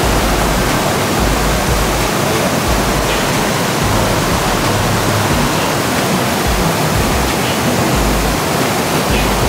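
A waterfall near Yellapur, Karnataka, running at reduced flow, gives a loud, steady, broadband rush of falling water that holds unbroken and close throughout.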